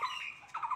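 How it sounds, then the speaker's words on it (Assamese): A single bird gives sharp, close squawking calls around a village, two quick bursts with a brief gap, no other sound. "চাৰিওফালে শুনিছে নহয় কিমান যে চৰাই-চিৰিকটিৰ মাত"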